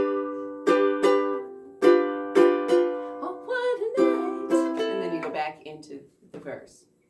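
Ukulele playing single down strums in a bouncy stop-start pattern at the end of a song's chorus, each chord ringing out then choked, close and clear, with no talking.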